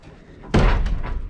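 A door slams shut indoors at a school, one loud sharp thud with a brief rattle and room echo following, after a quiet stretch of background murmur.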